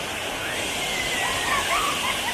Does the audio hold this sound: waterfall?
yes